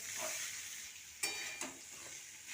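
Pieces of elephant apple (chalta) are stirred in hot oil with five-spice seeds while making chalta pickle: a steady soft sizzle with two brief spoon scrapes against the pan, heard close and without talk.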